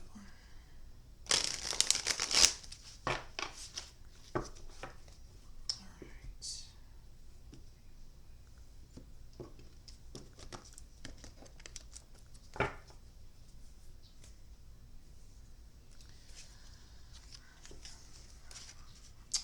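Soft papery riffling and shuffling of tarot cards, with a louder burst of crisp flutter early on, then scattered light taps and slides in a quiet room.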